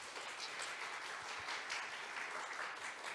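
Applause greets a staff group leader at a SSAFY recruitment information session in Korea. Steady clapping fills the whole stretch at moderate level with no voices.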